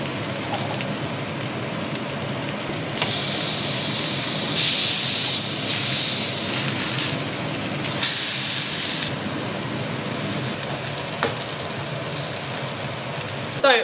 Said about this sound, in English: I'm going to fry it for about 2 to 3 minutes